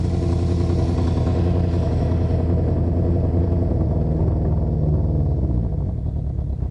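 A Honda CB500/550 motorcycle with a rough idle problem idles steadily off the throttle, close by, a low chugging rumble that slowly settles lower toward the end.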